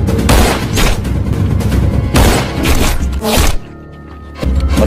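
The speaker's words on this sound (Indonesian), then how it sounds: "Dan aksi adu tembak pun terjadi di depan rumah mereka." Dense gunfire from a shootout in the film Blur: loud overlapping bursts and booms in rapid succession, a brief lull near the end, then the firing resumes.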